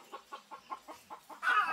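A farmyard hen clucks in a quick, even series of soft calls near a nest full of eggs, fairly faint, followed by a brief louder rustle or flutter.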